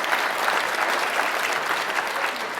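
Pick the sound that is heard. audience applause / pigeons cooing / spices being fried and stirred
audience applause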